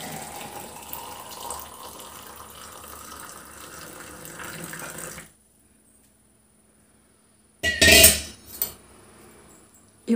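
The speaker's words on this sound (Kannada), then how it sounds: "ಇವಾಗ ಕಾಯಿಸಿರುವಂಥ ಬಿಸಿನೀರನ್ನ ಹಾಕ್ಕೊಳ್ತಾ ಇದ್ದೀನಿ" Hot water pours from a vessel onto salt and lemon juice in a glass or cup, then a spoon clinks and stirs. A soft, steady pouring trickle runs for about five seconds, then a pause, then a short burst of sharp metallic clinking close by.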